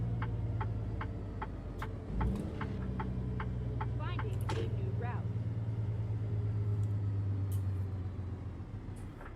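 A Cascadia semi truck in a driving simulator game runs with a steady low engine drone throughout, while a regular ticking indicator clicks on and off and short hissing bursts like an air brake come midway; a voice talks over it.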